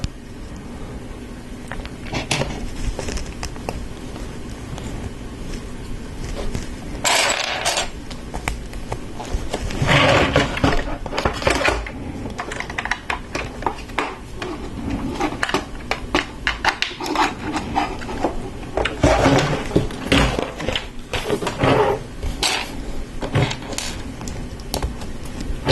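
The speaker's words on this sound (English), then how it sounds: "Connect some Technic pins to it." Plastic LEGO Technic pins pressed into a lift arm beam while building a Star Wars First Order Transporter set, producing continuous close clicks, taps and rattles of handled pieces throughout.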